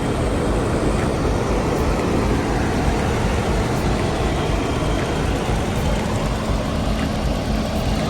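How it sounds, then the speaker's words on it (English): Range Rover Sport engine idling under an open hood, a steady low rumble with a broad, even hiss held at constant loudness throughout, with no talking. "we always like to take a quick listen to the motor"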